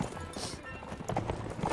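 Horses galloping in the video game Mount & Blade Warband, a steady rapid clip-clop of hooves running nearby, with a brief whinny and a voice talking over the game sounds.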